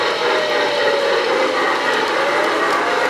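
Model Christmas train at a firehouse holiday layout, running as a steady, close mechanical whir and rumble with a faint rising tone, alone and continuous throughout.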